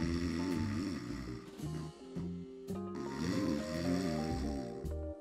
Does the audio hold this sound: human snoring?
yes